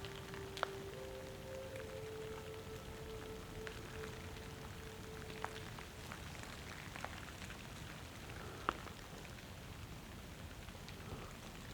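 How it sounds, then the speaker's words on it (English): Rain falling on the ground during a winter woodland walk with bare trees, a dense steady patter with occasional heavier drops, soft and even throughout with a faint tonal whine early on. "Listen to that rain."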